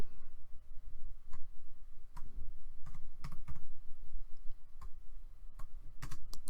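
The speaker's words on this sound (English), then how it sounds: "When you get there, you type in YouTube" Keystrokes on a computer keyboard, typing a search into a web store page, tapping out in quick irregular bursts with short pauses, close and fairly quiet, with no voices.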